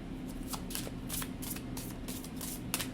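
A deck of tarot cards riffled in hand, steady bursts of papery fluttering in a regular rhythm, up close at a low level, no voice.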